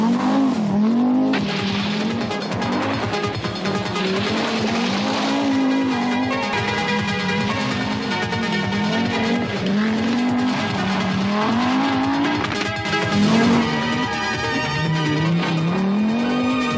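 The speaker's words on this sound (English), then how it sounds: "Through the final forest stages of Clochainog, Mikkola has his third Lombard RAC rally win firmly in his sights" Audi Quattro rally car on a forest stage of the Lombard RAC Rally, its engine note rising and falling continuously as it accelerates and revs hard, with tyre squeal and skidding, loud and close throughout without pause.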